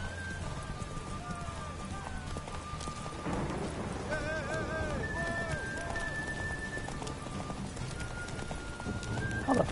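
Roach the horse galloping in The Witcher 3, rapid rhythmic hoofbeats under rain-like ambience with whinnies and other tonal game sounds, a voice talking over it.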